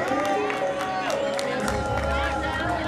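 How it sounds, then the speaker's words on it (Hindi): Crowd clapping and cheering at a Ramlila awards ceremony, with a voice speaking over the steady applause throughout. "जोरदार तालियां।"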